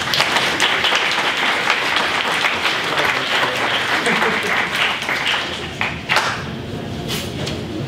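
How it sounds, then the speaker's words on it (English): An audience at a Black History Month news conference breaks into sustained applause, dense clapping filling the room evenly for several seconds before tapering slightly near the end. "Let's give him a round of applause."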